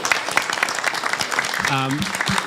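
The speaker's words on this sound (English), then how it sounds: "If we could have a round of applause for our panelists." Audience applauding panelists at the close of an energy transition panel discussion, a brief burst of clapping in a hall mixed with voices.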